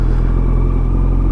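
A motorcycle fitted with a Delkovich exhaust gives a loud, close, steady low rumble with a slight throb, running continuously for the whole brief moment.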